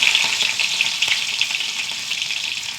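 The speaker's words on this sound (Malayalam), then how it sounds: "കുറച്ച് കടുക് ഇട്ട് കൊടുക്കാം" Mustard seeds dropped into hot oil for a Kerala-style spinach (cheera) curry, giving a loud, steady crackling sizzle that runs without a break, close up and with no voice over it.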